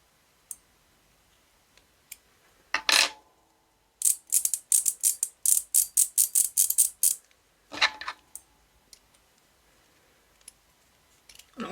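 Ammo cracker decoder with stainless steel parts and two springs, turned by hand: sharp mechanical clicking and ratcheting in a fast run of clicks with some scattered single clicks, close and clear, no talking.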